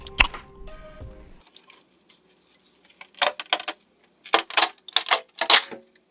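After a brief low rumble, a series of sharp crackling pops and snaps come in quick clusters, close and crisp, with quiet gaps between them, as a cooled 3D print releases from the print bed.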